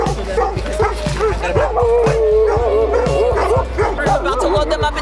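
Rescue dogs and puppies bark, yip and whimper close by in rapid, overlapping bursts, a loud continuous chorus with people talking underneath.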